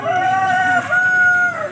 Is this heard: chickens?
yes